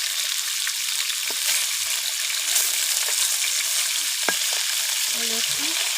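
Fish frying in a pan for a fish curry with bottle-gourd greens, giving a steady, close, dense crackle and hiss that holds level throughout with no talk.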